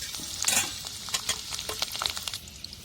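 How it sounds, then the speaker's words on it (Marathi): Finely chopped garlic fries in hot oil, a close sizzle broken by scraping stirring strokes and small crackling bursts, with no one talking. "तर आपला लसूण पण एकदम मस्त लाल झालेला आहे"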